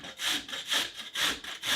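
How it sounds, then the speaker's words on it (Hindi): Peeled radish is rubbed on a medium-hole grater in a home kitchen, making four rhythmic rasping strokes, close and moderately loud, with no talking. "अब हम मीडियम छेद वाले ग्रेटर से मूली को कस लेते हैं।"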